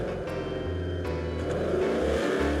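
A car engine in a GTA-style mobile role-play game revs and shifts through gears with a steady mechanical drone, loud and close, with no voices.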